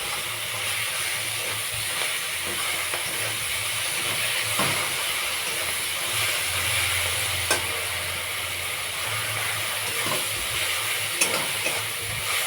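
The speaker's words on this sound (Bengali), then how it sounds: "ভালো করে মশলাটা কষিয়ে নেব" Spice paste being stir-fried in a pan, a loud continuous sizzling hiss close by with intermittent stirring scrapes and a few sharper clinks, no talk.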